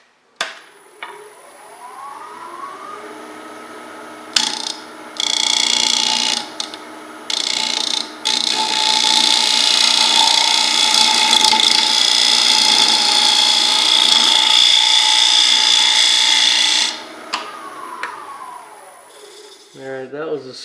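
A lathe tool cuts a bowl of dry, hard ash wood in calabash style. A loud, steady, high-pitched hiss and whine runs for most of the stretch, with a motor hum beneath and a few brief gaps and knocks.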